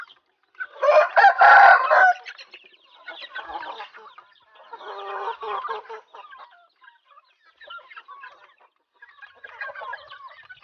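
Backyard chickens with fowlpox clucking and a rooster crowing, one loud near crow followed by bursts of clucking and calls in quiet surroundings, no voices.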